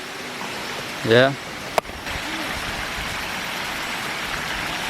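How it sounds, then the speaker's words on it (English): A river rushes steadily along a hiking trail in the Thai woods, a broad, even wash of flowing water that fills the whole stretch; someone briefly speaks early on, followed by a single sharp tap. "Gotta cross this river"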